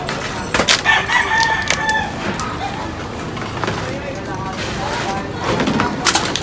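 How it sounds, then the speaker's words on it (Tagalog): Fighting roosters in a narrow alley crow and cluck repeatedly, several overlapping calls near and farther off, while someone talks throughout. "Yan pa mga ano no, mga panabong na manok."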